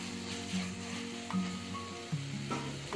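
Sizzling tomato masala being stirred with mint in a pan for banana flower biryani, with a soft frying hiss. Steady tonal music plays over it, nearly covering the sound.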